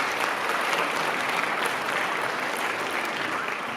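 Dense, steady clapping from a festival audience in Riga, Latvia, a full crowd applauding continuously at even strength throughout.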